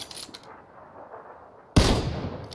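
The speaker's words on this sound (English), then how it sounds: "They're shooting at each other." Burst of gunfire in PUBG (PlayerUnknown's Battlegrounds), sudden and loud after a quiet stretch of ambient game noise, with sharp rapid shots continuing to the end.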